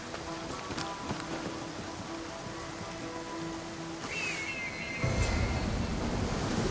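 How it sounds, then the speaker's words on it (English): Rushing waterfall in the video game Assassin's Creed Odyssey: a steady, dense roar of falling water that swells louder for the last couple of seconds, with a faint thin tone drifting through the middle. "This is the waterfall."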